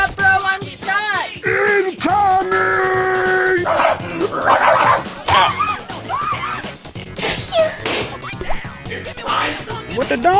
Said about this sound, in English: What the dog doing?